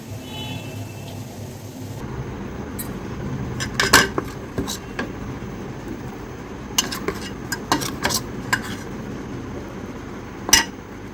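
Spoon stirring fried spice mix in a pan over a low flame for onion kachori filling, with scattered sharp clinks and scrapes over a quiet steady background.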